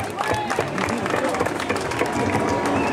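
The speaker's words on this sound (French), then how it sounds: "Allez, on l'applaudit" A crowd applauds in a dense, loud wash of clapping and crowd noise that stays steady for the whole stretch.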